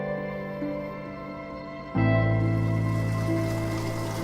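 Water running from a spring outdoors, a steady rushing flow that grows noticeably louder partway through and continues without a break, with no talking.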